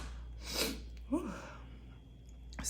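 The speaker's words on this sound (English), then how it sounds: "I was trying not to sneeze too loud" A single close sneeze bursts out sharply, followed by a short breathy gasp and quiet room tone.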